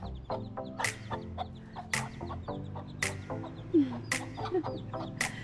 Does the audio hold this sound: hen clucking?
yes